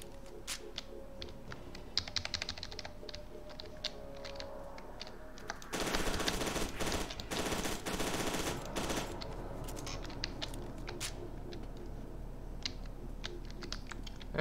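Rapid machine gun fire in the shooter game FEAR 2, a dense continuous burst of crackling shots in the middle, surrounded by scattered sharp clicks and lighter gunfire.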